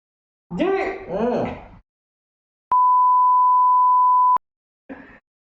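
A telephone call gives one long, steady, pure beep tone lasting under two seconds, loud and clean, with short bursts of speech before and after it.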